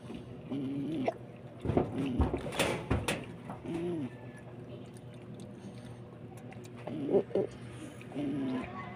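Pet pigeons coo in low, throaty bursts that come and go, with voices talking close by and a few clatters and knocks around them.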